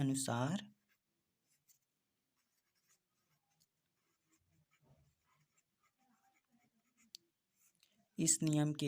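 Faint scratching and tapping of writing on a board in a quiet room during a chemistry lesson, with a person talking briefly at the start and again at the end.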